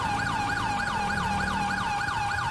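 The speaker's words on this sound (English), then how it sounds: "Lights and sirens, dude. Lights and sirens. Put them on" Police siren on a 2011 Crown Victoria patrol car in the LSPDFR police mod for a video game, a loud, steady wailing tone rising and falling in quick, regular cycles over low engine rumble.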